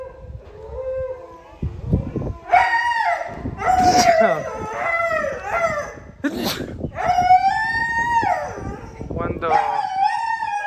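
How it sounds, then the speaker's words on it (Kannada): Mudhol hound dogs howl loudly and near, several long rising and falling howls overlapping with whimpers, while a person speaks briefly. "ನೋಡಿ ಇಲ್ಲೆಲ್ಲ ನಾಯಿ ಇಟ್ಟಿದ್ದಾರೆ, ಮುದೋಳ್ ನಾಯಿಗಳನ್ನ"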